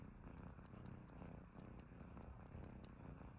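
A domestic cat purring softly and steadily at close range, a low, continuous rumble with faint rhythmic pulsing and no voices.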